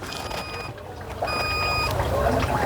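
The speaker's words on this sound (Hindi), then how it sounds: "कंट्रोलर में से कुछ बीप साउंड" The controller of a Mahindra Treo e-rickshaw, with its sensor supply pulled, gives two sustained electronic beeps, the second starting after a short gap, over a low background hum.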